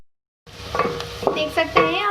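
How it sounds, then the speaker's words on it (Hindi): Medium onion sizzling in hot oil in a pan while being stirred for a bottle gourd and curry leaf curry, with steady frying crackle and intermittent scraping stir strokes, close and fairly quiet. "सबसे पहले मैं ऑयल में ऐड करूँगी एक मीडियम साइज़ की प्याज।"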